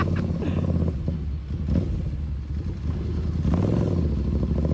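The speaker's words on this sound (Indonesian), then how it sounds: "Gila, knalpotnya ngeri banget." A Ducati Scrambler 800 Enduro with a full Akrapovic exhaust system rumbles and revs at low RPM, deep and gruff, close by and continuous, swelling and dipping as the throttle is worked.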